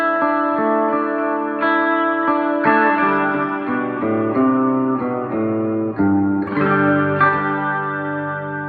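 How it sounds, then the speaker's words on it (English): An electric guitar plays a melodic line through a signal chain with reverb added, the sustained notes ringing out with a lingering wash and no talk. "Now we're going to add the reverb in."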